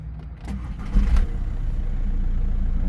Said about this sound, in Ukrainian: Так, ну що, заведемо. Це ж дизельок.